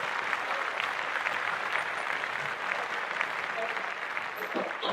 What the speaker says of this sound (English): Clap it up for them one more time.